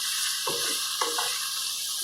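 Sliced boiled meat frying in a pan, a steady bright sizzle throughout with two brief stirring or scraping movements near the middle.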